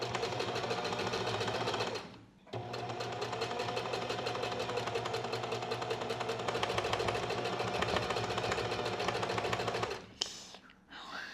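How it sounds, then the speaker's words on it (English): A sewing machine runs a straight stitch along the folded edge of linen fabric for pants, a steady close mechanical whir with a brief pause near two seconds and another stop and restart near the end. "I really need to be careful to sew as close to the end of the fabric as possible so I catch everything in"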